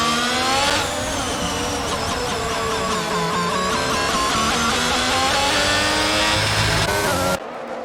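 F1 race car engines in F1 22 at the British Grand Prix on the Wellington straight: a loud, sustained high-pitched scream of several cars at full throttle, pitch climbing through gear changes, then cutting off abruptly near the end.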